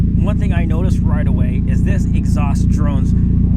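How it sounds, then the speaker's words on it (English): An NA Mazda Miata fitted with a cheap eBay aftermarket exhaust drones steadily and loudly in a low, constant hum, while someone talks continuously over it. "this exhaust drones really loud"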